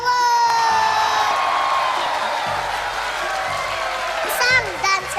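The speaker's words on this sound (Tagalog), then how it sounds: "Palakpakan, may kasama sigawan!" A television variety show studio audience cheers and shouts in a loud, sustained crowd roar with whoops and scattered applause, while music tones play underneath.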